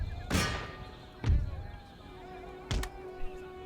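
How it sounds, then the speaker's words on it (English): Enemy cannons firing in an Empire: Total War battle from the 1600s colonial era: three deep, booming thuds spaced over a few seconds, each a sharp broadband burst with a short rumbling tail, under a faint steady background hum. "Well, now the enemy cannons open fire."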